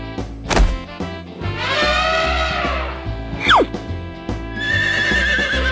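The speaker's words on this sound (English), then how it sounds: "Horse." A cartoon horse lets out a loud, drawn-out whinny near the middle, preceded by a thunk and followed by a quick descending whistle-like sweep and a brief tonal tail, with no talking.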